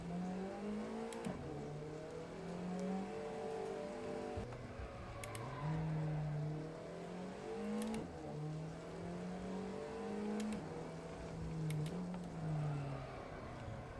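A turbocharged car engine in the Assetto Corsa racing game at Brands Hatch revs up again and again in rising sweeps, shifting every couple of seconds, steady and fairly quiet with no talk.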